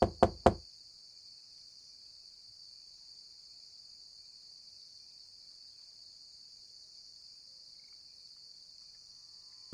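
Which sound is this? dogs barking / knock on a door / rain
knock on a door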